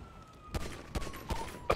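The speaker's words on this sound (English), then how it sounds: "Someone else is shooting me." Bursts of gunfire in the GTA video game during an online roleplay shootout, four quick cracks spaced unevenly over a steady background tone, moderately loud and without talk.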